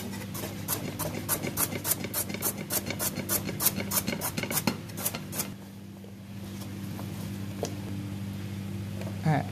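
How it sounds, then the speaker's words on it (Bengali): A knife thinly slices vegetables for a Chinese chicken and vegetable curry, giving quick, regular cutting strokes for about five seconds before stopping, with a steady low hum underneath. "ঠিক এভাবে পাতলা করে কেটে নেব।"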